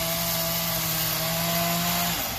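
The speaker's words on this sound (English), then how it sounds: "chainsaw carving an eagle right now" A chainsaw whines loudly and steadily as it carves an eagle from wood, close by, its engine tone holding even before easing off at the end.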